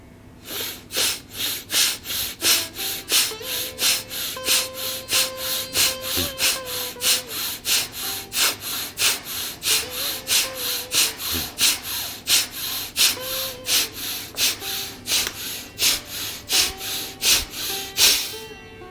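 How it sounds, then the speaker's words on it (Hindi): Bhastrika yogic breathing is heard as a long run of forceful, rhythmic in-and-out breaths through the nose, close and loud, steady at about two per second with gentle music beneath. "भस्त्रिका पहला चक्र 25 बार आरंभ करिए।"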